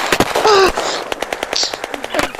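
Rapid bursts of close, loud gunfire in a tight rapid rhythm with a short lull, with a yelled voice mixed in near the start.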